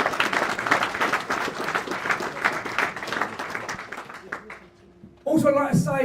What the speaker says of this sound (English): So give them a massive round of applause to all the fighters who've made it.